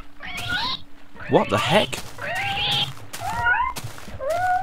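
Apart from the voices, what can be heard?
drowning cats meowing in a video game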